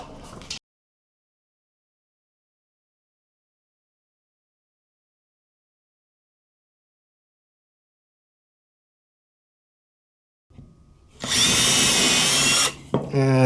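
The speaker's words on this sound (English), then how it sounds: "Since I already got the drill out, might as well just do this the normal person way." A power drill bores into wood for a few seconds near the end, loud and close, after a long silence and a brief sound at the start.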